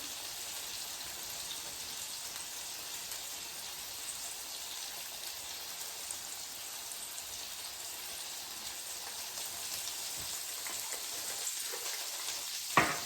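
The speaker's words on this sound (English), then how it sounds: "Okay, we're gonna let that brown up." Ground beef browning in a skillet, a soft, steady crackling sizzle that runs on evenly throughout, close and moderately quiet, with a faint clink near the end.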